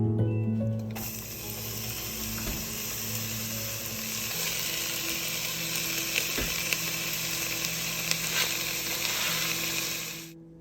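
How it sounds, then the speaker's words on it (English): Diced onion and celery sizzling in olive oil in a soup pot over medium-high heat, a steady, moderately loud frying hiss running throughout with faint clinks, no voices. "We then add our diced onion and celery."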